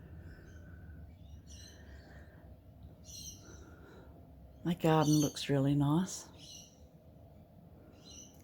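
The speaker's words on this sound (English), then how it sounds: "Birds are very loud outside. Rainbow lorikeets." Repeated chirping calls of rainbow lorikeets outdoors at moderate distance, with a person speaking briefly partway through.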